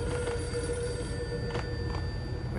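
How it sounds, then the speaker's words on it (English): A telephone in Max Payne rings with a steady electronic bell tone, repeating bursts sounding moderately loud and alone against a faint background hum. "Phone's ringing, damn it."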